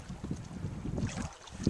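Wind buffets the microphone over water lapping against a small sailboat under sail, a steady rushing noise with soft splashes and knocks, fairly close.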